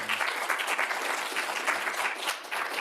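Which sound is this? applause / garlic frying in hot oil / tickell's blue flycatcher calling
applause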